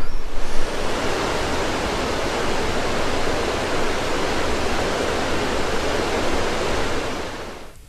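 The pristine Trinity River flowing in the Hoopa Valley, a dense, steady rush of water, loud and close, continuing without break.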